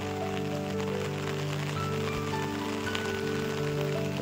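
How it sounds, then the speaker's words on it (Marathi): Rain falling in a Konkan village during heavy monsoon weather, a continuous soft patter of drops under a steady droning hum, with no one speaking. "तर बघा आता पाऊस चालू झालो"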